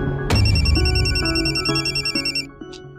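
A telephone rings loudly in a Marathi TV serial scene, an electronic ringtone with rapid pulsing tones that repeats for about two seconds and then stops.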